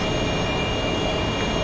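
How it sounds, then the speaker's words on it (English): An AV-8B Harrier jet engine in a flight simulator game roars steadily at full power, a dense, unbroken high-powered whine and rumble filling the whole brief stretch. "And the engine is slowly tearing itself to pieces."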